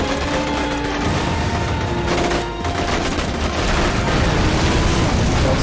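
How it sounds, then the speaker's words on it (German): Video game Stuntman Ignition with a dense barrage of explosions and gunfire-like bursts, continuous loud rumbling blasts layered over each other with no speech. "Da explodiert einfach alles."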